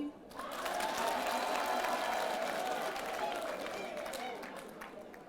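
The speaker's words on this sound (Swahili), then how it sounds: "Hamwezi kupiga makofi." Women in a crowd at an anniversary celebration in Nairobi break into steady applause, a dense, even clapping that swells quickly and holds for several seconds before easing slightly, with faint voices mixed in.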